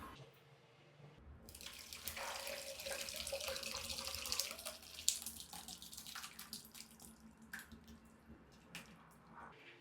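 Whey from vinegar-curdled milk pours and drains through a filter cloth into a container while making queso fresco, a close, soft splashing trickle that swells and then breaks into irregular drips.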